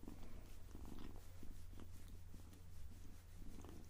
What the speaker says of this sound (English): we got one tiny, tiny little purr for you